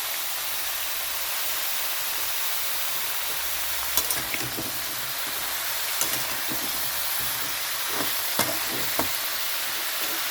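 Vegetables sautéed in a pan with salt and turmeric for spinach ghonto, hissing in a steady loud sizzle, with occasional scraping and clicking from stirring, close up and without talking.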